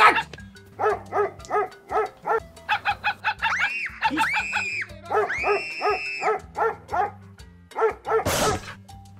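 A dog in the Roblox video game barks in a quick, rhythmic series of sharp, tonal, synthetic-sounding yelps, heard clearly up close with short pauses between bursts and a brief noisy burst near the end.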